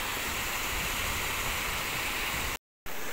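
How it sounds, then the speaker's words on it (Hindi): A large waterfall roars as a constant, dense rush of water, loud and close. It cuts out abruptly for a moment near the end, then resumes. "ये आप देख सकते हो, ये काफ़ी बड़ा झरना है ये।"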